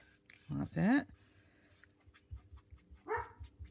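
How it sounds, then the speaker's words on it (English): Indoor dogs give a pair of sharp, whining barks close together, then a quieter stretch with soft thumps, and one more yelping bark near the end. "the dogs are going crazy"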